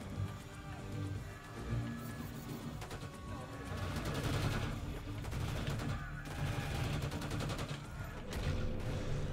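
Gunfire in Call of Duty Black Ops 6: bursts of automatic rifle fire and scattered shots, some near and some distant, over a dense rumbling battle backdrop.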